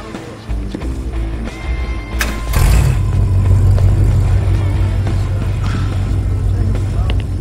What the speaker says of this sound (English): Go ahead, turn the engine over. Let me hear it.